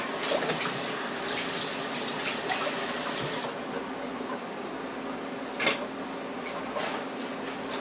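Tap water runs steadily while a half-cup measuring cup is washed, a continuous close splashing hiss with occasional knocks and shifts in the flow.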